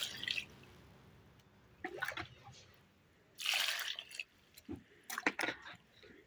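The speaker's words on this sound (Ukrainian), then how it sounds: "Заливаю їх водою." Water splashes and pours in short bursts into a jar of small tomatoes, with a brief gush near the middle and trickling splashes toward the end, close by and moderately quiet.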